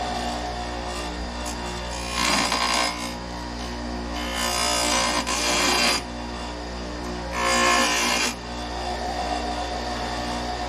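Rubber being scuffed off the bottom of a Honda Helix scooter's intake makes three separate rasping bursts of a few seconds each, set over a steady low hum.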